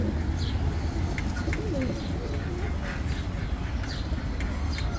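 Hindawi pigeons at an animal and bird market give soft, low cooing calls amid steady background hubbub, with a few faint chirps from other birds.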